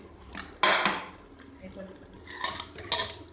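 A spoon clatters and scrapes inside a pot as meat with onions is stirred and fried for karela gosht, giving a few sharp metallic knocks and scrapes over a quiet background, with no talking.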